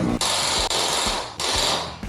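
Dead battery on a Harley Dyna motorcycle failing to start after winter storage, giving a loud, dense mechanical clatter of rapid clicking in two bursts with a brief gap, close up and with no voices.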